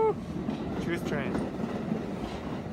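Train sound effect with rumbling rail clatter and a faint whistle at the start, steady and fairly loud throughout for a few seconds, with no talk over it.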